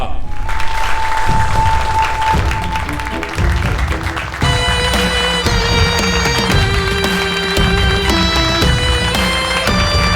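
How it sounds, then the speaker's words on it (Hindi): Audience applause greets a young poet from Lucknow at a televised poetry contest, a wash of clapping under loud stage music that shifts to a bright, sustained musical sting partway through. "जोरदार तालियों से स्वागत करें"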